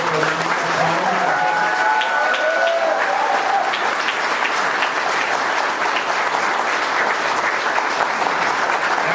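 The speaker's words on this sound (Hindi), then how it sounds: "तो आइए एक बार हम जोरदार तालियों के साथ थैंक" Sustained audience applause at a Hindi-language panel discussion on direct selling, steady and dense throughout with faint voices mixed in.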